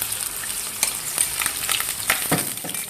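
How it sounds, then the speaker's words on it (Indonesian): Food frying in a fair amount of oil over medium heat in a home kitchen: a steady close-up sizzle and crackle with scattered sharp pops and occasional stirring scrapes, no voices. "Ini kita goreng dengan minyak yang agak banyak ya, dan apinya sedang aja"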